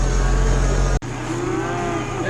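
Cattle on a farm lowing loudly as they come in toward a feed truck, one long close moo followed by a fainter call over steady outdoor background.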